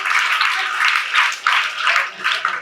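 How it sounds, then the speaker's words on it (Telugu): Audience clapping at a Good Touch & Bad Touch school seminar held for the International Day for the Elimination of Violence against Women: loud, close bursts of hand claps in uneven waves, with no talking. "వెరీ గుడ్, క్లాప్ కొట్టండి దానికి"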